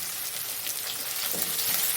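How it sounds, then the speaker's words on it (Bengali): A medium onion, finely chopped, fries in hot oil with black cumin, giving a dense, steady sizzle throughout at close range with no voices. "মশলাটা একটু ভাজা ভাজা হয়ে এলে এর মধ্যেই দিয়ে দেব একটা মাঝারি সাইজের পেঁয়াজ, কুচি কুচি করে কেটে নিয়েছি সেটা।"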